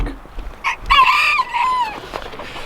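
Red Ranger hens on a farm cluck close by, a few short clucks before a loud drawn-out crow-like call rises and falls, followed by softer clucking.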